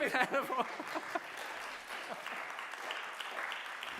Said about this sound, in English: Ladies and gentlemen, please give a big hand of applause.